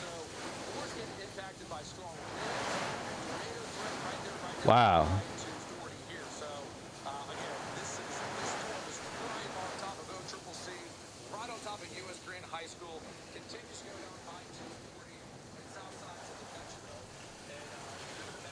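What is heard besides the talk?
strong wind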